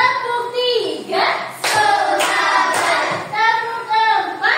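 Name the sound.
hand claps in a classroom clapping game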